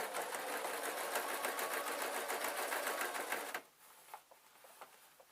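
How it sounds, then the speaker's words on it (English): A sewing machine stitches a seam shut on a peg bag, a fast, steady whirring run for about three and a half seconds, then stops, leaving faint fabric handling and light clicks close by. "So I'm sealing my seam now."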